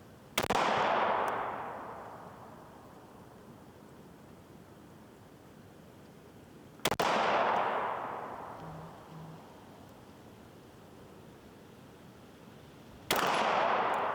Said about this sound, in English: so we did some zeroing. It took about 9 rounds to get us where we want to be